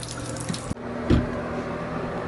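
Water runs steadily like a tap or sink filling, loud and continuous, broken by a sharp click and a brief low thump, with no voices.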